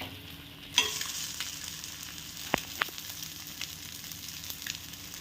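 Food sizzling on an Indolium stone tawa just after being flipped, a steady close hiss with a few sharp clicks and scrapes of a spatula against the pan surface.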